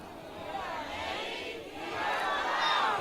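A protest crowd at a No Kings rally in Montpelier, Vermont chants back a leader's call, a broad, loud wash of many voices that swells steadily across the moment.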